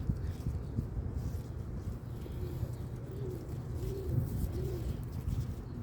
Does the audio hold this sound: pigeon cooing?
yes